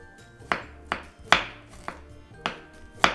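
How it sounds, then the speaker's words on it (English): A knife slices through fresh ginger on a cutting board while preparing Nyonya nasi minyak wedding rice. Six crisp, close chops land at slightly uneven intervals, with no talking. "Instead of mincing or slicing like this, you can also blend it."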